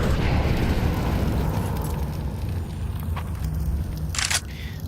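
Flashbangs burst during a Counter-Strike 2 match, a dense, loud rumble of blasts and ringing that decays over several seconds, with sharper bright cracks near the end.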